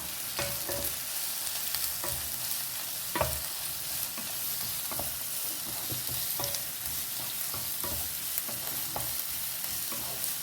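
Crushed shallots and onion sauté in coconut oil for a chicken curry masala with a steady low sizzle. Intermittent taps and scrapes of a spoon stirring in the pan are close by.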